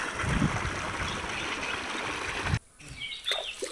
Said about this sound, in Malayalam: കുളത്തിൻ്റെ അടുത്ത് തന്നെ ഒരു ചാലുണ്ട് കേട്ടോ.